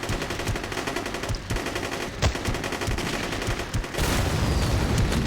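Sustained automatic gunfire from enemy forces in a Chechnya combat mod for a military game crackles in rapid, overlapping bursts, loud and continuous, with a heavier volley swelling near the end.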